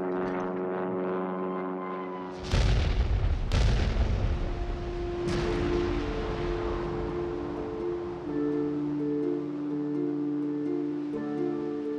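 A 2,000-pound aerial bomb explosion against a captured German battleship, with heavy booming blasts at intervals under a droning propeller-aircraft and orchestral backdrop, the first blast loud and sudden, later ones rumbling.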